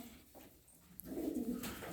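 Low, soft cooing from tumbler pigeons kept in a loft in Darıca, a short murmuring call rising in the second half over a quiet background.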